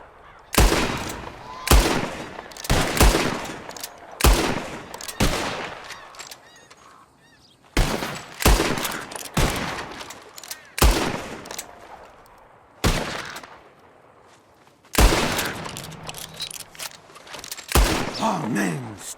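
Gunfire at flying birds in Red Dead Redemption 2: loud, sharp shots in quick bursts and pairs, separated by short lulls, some ringing out as the birds scatter.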